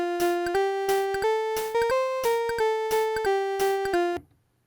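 Raw Casio PT-10 mini keyboard tone playing a short melody of about a dozen bright, buzzy square-like notes in steady rhythm, each with a clicky attack, close and alone, ending abruptly into faint hiss.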